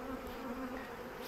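Honey bees swarm around a beekeeper's hand at the hive with a steady, close buzzing drone that holds a clear pitch and wavers slightly throughout, with no voices.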